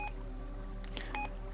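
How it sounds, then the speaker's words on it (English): Short electronic key-tone beeps from a Retevis RA86 GMRS mobile radio as its menus are stepped through, several quick bleeps in an irregular cluster, close and clear over a steady low hum. "that beeping every time you go through a menu"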